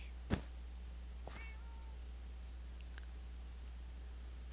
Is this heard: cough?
no